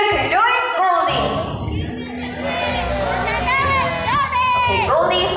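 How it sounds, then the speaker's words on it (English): An audience at a bird show at Ocean Park Cebu cheers and shouts in bursts, with children's voices prominent. A host's amplified voice carries over the crowd. "If yes, let me hear you cheer."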